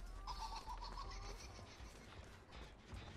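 Crows cawing in the horror game Dead by Daylight, a few clear calls in the first second and a half over a steady low game ambience, fading into background rumble afterward.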